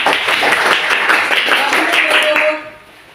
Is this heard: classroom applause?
yes